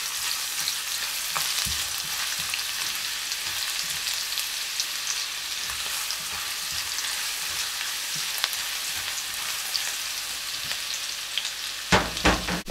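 Ginger frying in a pan until brown, a steady close sizzle and crackle of hot oil throughout, with a few clatters near the end and no talking.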